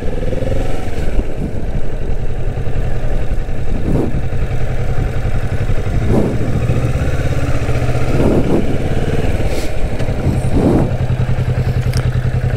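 A Kawasaki Vulcan S motorcycle idling and rolling at low speed with a steady, close engine throb, punctuated by several dull thumps and clatters as it brakes to a stop, no voices.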